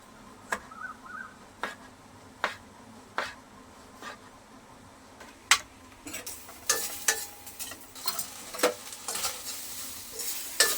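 Chicken pieces cooking in a pan at home with their moisture boiling off, giving a faint sizzle with repeated sharp scraping and stirring clicks, growing busier toward the end.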